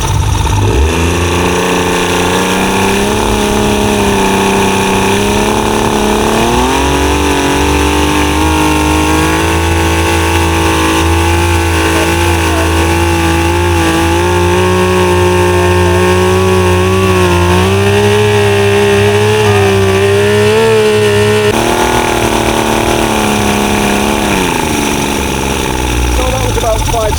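A Yamaha 75hp outboard engine uprated to 90hp runs after a rebuild, a loud, steady motor drone whose pitch climbs and shifts as the throttle is eased up, then drops near the end.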